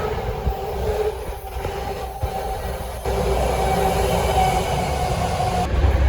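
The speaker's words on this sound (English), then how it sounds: "what are the odds of my train coming right when I get here?" A train rumbles loudly nearby, a heavy rolling drone with metallic squeals and clatter as it pulls in, growing fuller partway through.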